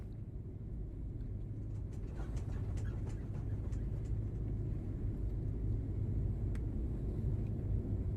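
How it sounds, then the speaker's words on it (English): A simulated aircraft engine in X-Plane 12 is run up toward takeoff power, producing a steady, close, low droning rumble with faint scattered clicks above it. "I'm going to slowly add in that takeoff power"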